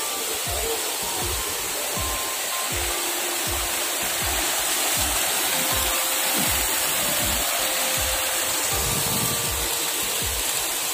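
Kawa-Kawa Falls in Sta. Cruz sends out a steady, dense rush of falling water that stays constant and loud throughout, with no voices.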